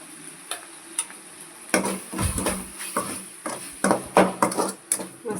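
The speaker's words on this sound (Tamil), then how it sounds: "மசாலாஸ்லாம் நல்லா வதக்கிக்கலாம்." Chili powder, pepper powder, cumin powder and salt sauté in a pan for radish prawn gravy, with intermittent scraping and clacking strokes of a stirring spoon over a faint, steady sizzle.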